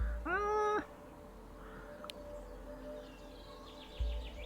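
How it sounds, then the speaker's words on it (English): A black cat in the video game Werewolf: The Apocalypse — Heart of the Forest gives one clear, drawn-out meow near the start, followed by quiet ambient game background. "A black cat."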